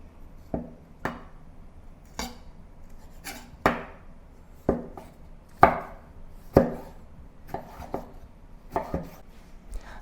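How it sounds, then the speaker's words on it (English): A knife cuts a tomato into thin slices on a board, about a dozen crisp, close chops falling at an uneven but steady pace, with no talk. "Then the tomato into thin slices too."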